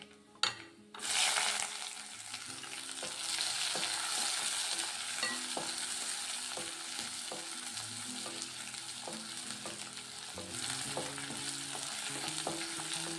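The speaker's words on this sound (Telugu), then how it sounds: "ఇది కొద్దిగా ఇలా ఫ్రై చేసుకుందాం" Onions fry in a pan with a continuous close sizzle, broken by regular clacks and scrapes of a spatula stirring them, after a brief thump at the start; no one talks.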